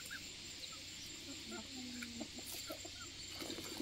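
Farmyard chickens cluck in short, scattered calls over steady outdoor background noise, moderately near, with low voices murmuring in the background.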